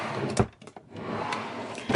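A makeup storage drawer slides open in one short, close scrape with a soft knock, followed by quieter rustling and a light bump near the end.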